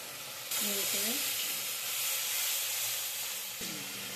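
Spices sizzling and hissing in hot oil for a cabbage curry, a loud steady fry with scraping stir strokes near the start and again toward the end.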